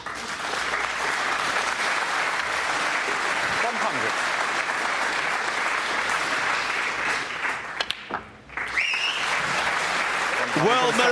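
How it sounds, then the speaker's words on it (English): A snooker crowd at the 2018 Players Championship quarter-final applauds steadily for several seconds, then the clapping briefly drops away before it picks up again. "Well-merited applause."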